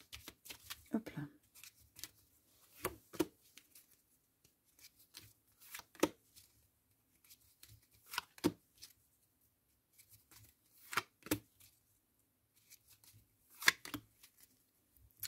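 Tarot cards being shuffled by hand in a quiet room, with short crisp riffling bursts repeating irregularly every second or two, close and fairly soft, and a voice speaking briefly between them.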